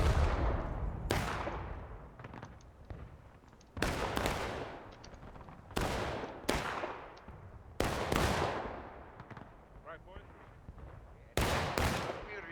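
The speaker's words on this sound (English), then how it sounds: "So good shot from the artillery, hits some of the opposing artillery pieces." Artillery cannons boom during a battle in the Civil War video game The Blue and The Grey, with loud repeated blasts every second or two, each trailing off into a rumble, mixed with scattered distant gunfire.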